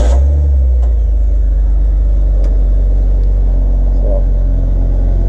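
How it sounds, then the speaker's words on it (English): A Willys truck restomod fitted with a new exhaust and a Cherokee-type engine idles loudly, a deep steady rumble with a slight rev at the start, close to the listener. "I did get exhaust on it, so here I can start it up for you so you can hear it"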